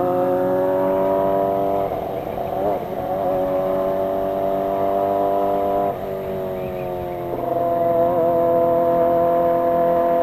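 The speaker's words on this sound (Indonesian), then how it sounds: "kita di sini pure dengerin suara motor dari ZX25R yang 4 silindernya" A Kawasaki ZX25R four-cylinder motorcycle engine revs up close and loud, holding high, smooth screaming pitches with brief dips and rises between blips of the throttle, with no talking over it.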